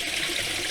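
Water from an aquarium filter bubbles up around the sponges, a steady, close trickling wash with no other sounds.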